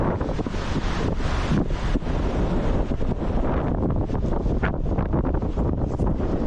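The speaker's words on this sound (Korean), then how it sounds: "밤새 바람이 어찌나 부는지 무서워." Strong wind blowing through a campsite at dawn after a stormy night, a loud continuous roar with heavy gusting buffeting the microphone throughout.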